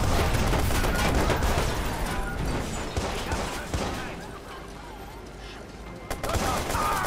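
Gunfire in the video game Watch Dogs, a dense run of shots and bursts crackling through a busy game soundscape, loud at first and easing slightly, with a voice talking over parts of it.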